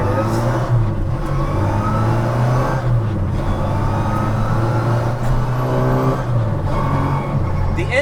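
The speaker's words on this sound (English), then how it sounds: "The intake noise is awesome." A modified Mini Cooper hot rod drives along with a loud, continuous engine drone and intake whine, rising and dipping with throttle changes from inside the cabin.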